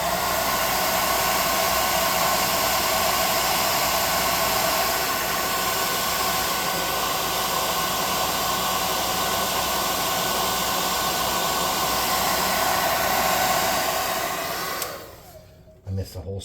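A hair dryer blows on fresh paint on a tabletop miniature of a futuristic food vendor stall, a loud, continuous close-up whoosh for about fifteen seconds before it switches off.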